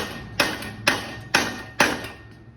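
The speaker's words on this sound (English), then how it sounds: "A few more whacks and I think we'll be good." Four sharp hammer whacks strike metal bicycle parts of a Schwinn Mean Street BMX at an even pace, each a loud, bright clank that rings briefly before the next blow.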